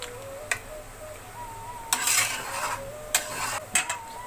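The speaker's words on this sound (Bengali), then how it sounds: "এবার ভালো করে তরকারির সঙ্গে মিশিয়ে দিব।" A spoon stirs a bottle gourd and rohu fish curry in a pot, giving scattered scrapes and knocks and a few louder clattering bursts over a faint low simmer. No voices are heard.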